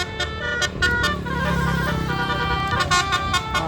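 A passing bus sounds a Basuri telolet horn near a stadium and mosque, blaring repeated melodic toots in a bouncing rhythm over the rumble of traffic.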